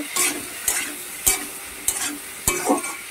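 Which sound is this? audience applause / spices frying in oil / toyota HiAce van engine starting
spices frying in oil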